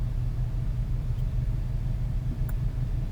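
A big truck rumbles nearby with a steady, deep low-end drone that holds at an even level throughout, marked only by a couple of faint clicks.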